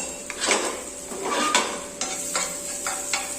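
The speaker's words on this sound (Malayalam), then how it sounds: "ഇനി അതേ നെയ്യിലേക്ക് നമുക്ക് എടുത്തു വെച്ചിരിക്കുന്ന ഈ ഒരു പഴവും ഇട്ട് നമുക്കൊന്ന് വഴറ്റിയെടുക്കാം" Banana sautéed in ghee in a pan gives a soft, steady sizzle broken by a few scraping and clinking strokes of a spoon against the pan, heard up close with no talking.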